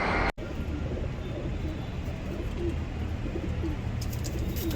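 Pigeons coo softly and repeatedly outdoors against a steady background hum, with a brief dropout near the start and faint traffic noise behind.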